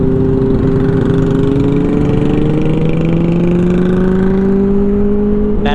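A 2024 Kawasaki Z900 motorcycle engine runs loud and close, its steady droning note slowly climbing in pitch as the revs rise.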